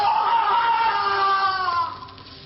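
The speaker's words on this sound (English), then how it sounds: "We will wait until his screams subside." A man in an old-time radio drama screams in drawn-out agony, loud and close, the cry sustained before fading slightly at the end.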